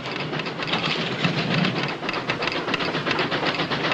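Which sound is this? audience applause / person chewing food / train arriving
train arriving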